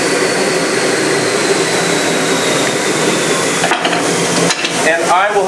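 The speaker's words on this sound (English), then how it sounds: "I will now just sand this to make sure that it is in fact contacting everywhere" Sanding a wooden back brace on a radius dish, a steady continuous abrasive rasp that runs loud and unbroken before stopping in short gaps near the end.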